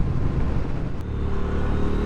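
A 2023 Triumph Speed Twin 1200 parallel-twin motorcycle pulls in fourth gear, giving a close, loud, steady engine rumble with a low, throaty drone and no talk.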